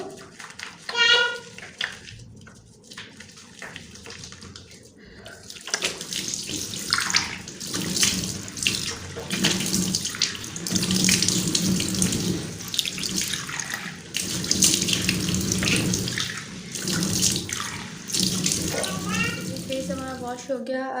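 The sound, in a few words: water running from a tap while washing face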